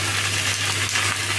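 Choy sum greens drop into a hot pan with a continuous loud sizzle and crackle of frying, steady throughout with a low hum underneath.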